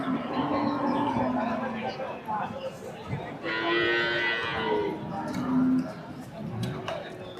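Loud moos from native long-horned Kangayam cattle ring out repeatedly amid a busy crowd of people chattering nearby at the Gundadam livestock market.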